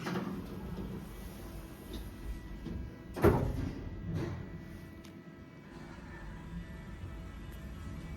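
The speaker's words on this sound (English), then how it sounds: "Doors closing." An Otis Gen 2 lift in a mixed-use building with university accommodation, its doors sliding shut: a low rumbling slide, a single sharp thud as they meet, then a soft hum from the car, with no talking.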